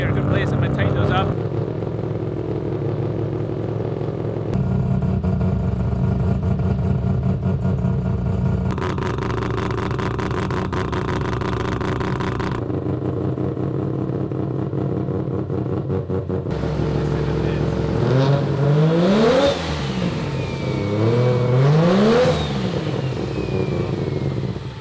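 A three-rotor rotary engine idles with a choppy brapping note, stepping between steady speeds around 1750 rpm, then rising and falling in several sharp revs toward the end.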